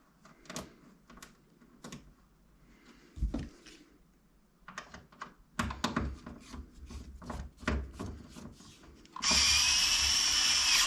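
Screws being driven back into the metal chassis of an Akai S2000 sampler with a small driver, in a run of scattered close clicks and taps that ends in a sustained loud whirring burst of a power tool.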